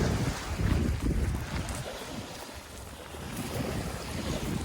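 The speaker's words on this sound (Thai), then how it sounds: "ผักท่ามกลางเสียงคลื่นนะจ๊ะ" Sea waves washing onto a beach where wild sea spinach grows, a steady surging rush with gentle swells in loudness, mixed with wind buffeting the microphone, no voices.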